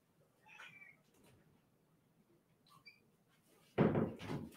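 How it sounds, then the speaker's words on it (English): A house cat being let out meows faintly twice in a quiet room, followed by a louder thud and rattle of a door near the end. "I'm going to let the cat out while you guys are doing"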